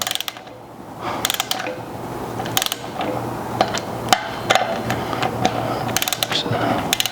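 A hand ratchet snugs the brake disc bolts on a Yamaha TW200 motorcycle, short bursts of close, sharp clicking with brief pauses and light metallic knocks between them.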